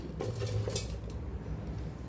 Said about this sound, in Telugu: ఈ వాటర్ మెలన్ ముక్కలను జ్యూస్ మిక్సీ జార్లోకి వేసుకోవాలి